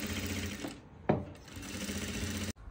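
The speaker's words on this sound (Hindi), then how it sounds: "और इसका भी सिलाई लगा ली।" A sewing machine stitches a summer frock fabric in a fast, continuous mechanical whir close by, with a brief pause, a small knock and a sudden stop near the end.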